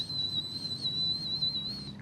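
A thin, steady high-pitched whistle made by a voice imitating tinnitus, held continuously for about two seconds over a low background hum.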